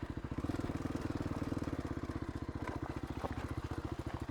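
A motorcycle rides rocky desert trails in second gear, its engine thumping in a fast, even pulse that stays steady and close for the whole stretch, with no talking.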